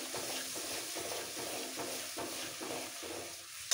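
Mung dal being stir-fried with a ginger and cumin paste in a pan produces a steady sizzle, broken by a regular pulsing rhythm of stirring strokes.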